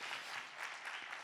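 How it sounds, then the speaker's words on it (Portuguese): A church congregation breaks into brief, dense applause during a sermon, a steady crackle of many hands heard at moderate distance and fairly quiet. "Você pode aplaudir a isso?"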